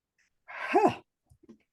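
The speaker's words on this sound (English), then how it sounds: "Excuse me, I'm going to sneeze" A single sharp sneeze with a rising burst, followed by a few faint soft sounds, otherwise quiet.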